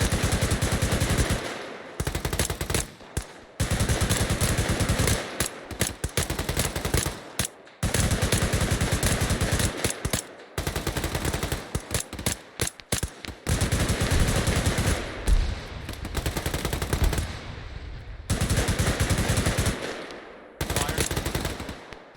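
Squad machine guns in the military video game Arma 3 fire long, loud, rapid automatic bursts, separated by short pauses, with some shorter bursts and a few gaps as the firing shifts.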